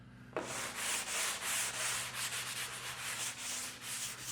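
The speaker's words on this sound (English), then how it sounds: "Now when that one's dry, we're going to come back with our sanding sponge." A sanding sponge rubs steadily over dried all-purpose drywall compound on a damaged corner, giving a loud, continuous scratchy hiss that swells and fades in a regular back-and-forth rhythm with no talking.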